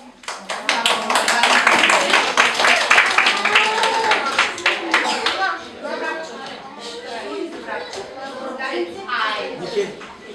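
An audience claps for small children at a kindergarten group performance, a busy burst of close, uneven hand claps that thins after a few seconds while children's voices and chatter carry on beneath.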